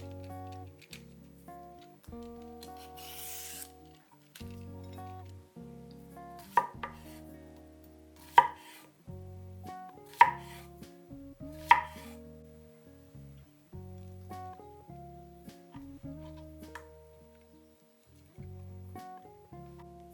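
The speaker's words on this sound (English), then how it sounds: "For the cucumber, simply cut it into slices." A knife slices a cucumber on a board, giving a sparse series of crisp, separate cuts that ring out sharply against quiet kitchen music playing underneath.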